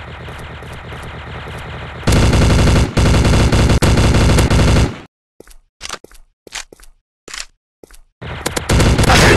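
Gunshots in the mobile FPS game Combat Strike PRO come first as loud, sustained rapid automatic fire, then as short separated bursts with gaps between them, and finally as another long volley.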